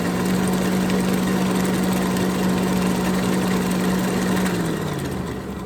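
Ankarsrum stand mixer with a heavy duty beater working cookie dough, a loud, close, steady motor drone with a strong low hum that shifts pitch slightly near the end.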